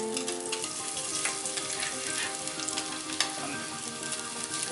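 Garlic sizzling and frying steadily in a hot pan, reused from searing sea bass, a dense continuous crackle with a few stirring knocks.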